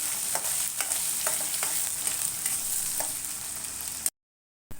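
Onions and chillies fry in a pan with a steady close sizzle, broken by regular scraping stirs of a spoon, before the sound cuts out abruptly near the end.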